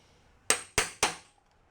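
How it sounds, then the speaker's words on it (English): Three sharp, loud strikes of a hammer on a leather hole punch, evenly spaced about a quarter second apart, each with a brief metallic ring, then quiet. "we'll punch the other one here and then we'll cut them both out with scissors"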